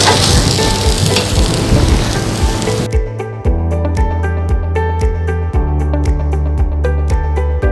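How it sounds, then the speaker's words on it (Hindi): Fatty patta tikka meat sizzles and crackles over slow coals, a dense spitting hiss for about three seconds before rhythmic music takes over. "इसको बिल्कुल स्लो कोयलों पे पकाना है"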